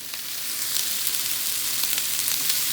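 Tomatoes sizzling and frying with onions in a hot pan for a tomato, spinach and shallot pasta, a steady, fairly loud crackling hiss with no talking.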